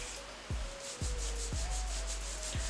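Steady, close scrubbing and rubbing from hair product being worked into the scalp beneath a wig, with rhythmic strokes roughly every half second under a continuous low hum.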